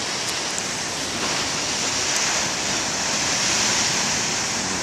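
Big ocean waves crash and roll onshore in a steady, loud broadband roar with no pause, close and continuous throughout, with no voices present.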